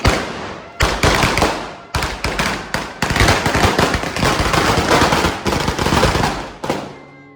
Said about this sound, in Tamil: இதான் ஏன் பட்டாசு? இதுதான் ஏன் மேல சவுண்டு கேக்குது?